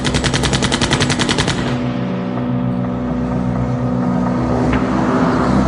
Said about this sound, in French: les voisins du cimetière de Rieux-la-Pape sont réveillés par une fusillade